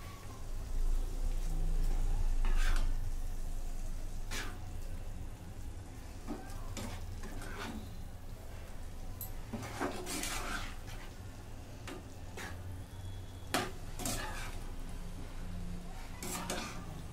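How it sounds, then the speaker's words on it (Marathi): Egg masala being gently stirred on a hot tawa, a soft steady sizzle with scattered scrapes and taps of a spatula against the pan, close and low in level. "आणि हे आता मिक्स करून घेते हलक्या हाताने."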